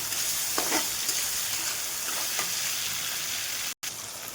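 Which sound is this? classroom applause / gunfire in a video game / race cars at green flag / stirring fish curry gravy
stirring fish curry gravy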